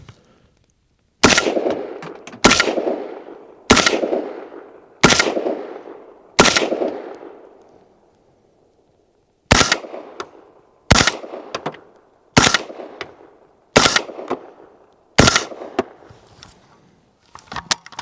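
Ten sharp gunshots from a Mini M4 rifle in 300 Blackout fitted with a suppressor, supersonic and subsonic rounds, fired at an outdoor range. They come as two strings of five at a steady pace, each crack loud and close with a short decay.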